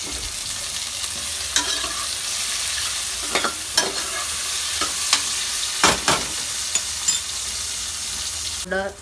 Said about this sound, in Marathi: कांदा असा गोल्डन ब्राऊन झाल्यावर टमाटर टाकायचं.